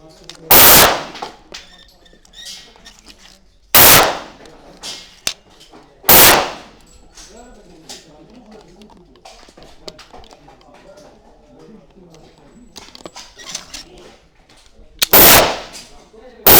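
Gunshots go off at a gun shop shooting event, with four loud single blasts spaced a few seconds apart and a fifth starting at the very end, while someone speaks quietly between shots.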